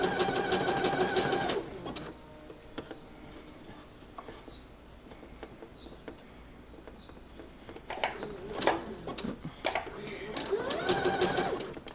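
A sewing machine stitching a t-shirt seam in short close bursts of rapid, even whirring at the start and end, with someone talking in the quieter stretch between runs.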